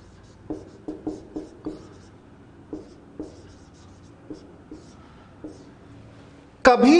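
Pen strokes scratch across paper in a series of short, distinct taps and scrapes, close and clear, with gaps between them, ending in a sudden louder burst of noise.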